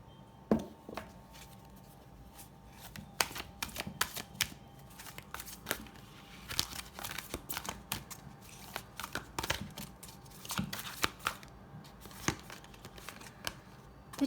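Tarot cards are shuffled by hand in a steady run of crisp riffling and flicking bursts, close and fairly quiet, with no talking over them.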